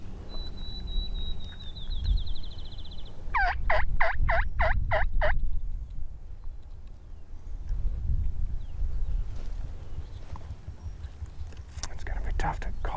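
Wild turkey tom gobbling in a single rapid burst of rattling notes at moderate distance, heard on public land in Oklahoma, with hushed whispering and faint background noise around it.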